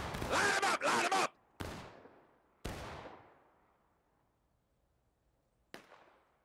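Musket fire from a line of infantry in War of Rights, a Civil War video game: a dense crackling volley up front, then three separate sharp shots with long decaying echoes, the last one fainter.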